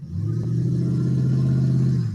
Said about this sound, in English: excuse the sound of the truck